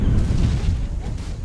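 Big ship cannons firing in the pirate game Tortuga A Pirate's Tale, a dense, continuous low rumble of booming blasts through the whole moment, loud and close with no clear gaps between shots.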